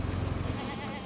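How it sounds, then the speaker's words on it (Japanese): A wild goat on Miyako Island gives a single short, nasal bleat close by, wavering briefly before fading into quiet outdoor background. "いた、野生のヤギ。"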